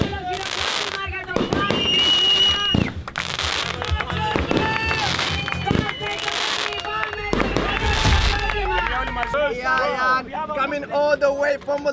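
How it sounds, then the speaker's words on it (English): Fireworks bursting at night in Greece, a rapid series of loud booms and crackles close by, with voices talking and shouting in between. "Boom, they deserve fireworks, you get me?"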